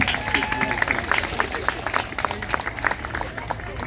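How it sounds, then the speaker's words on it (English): Audience applause at a community memorial scholarship awards ceremony, a steady patter of many hands clapping in a hall with some crowd murmur mixed in, held at a moderate level throughout. "Round of applause for Bashira."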